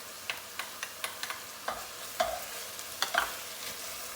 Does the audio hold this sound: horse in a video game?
no